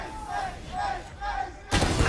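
Spectators in an esports arena roar and cheer during a tense match, the crowd noise swelling in waves before a sudden louder burst near the end.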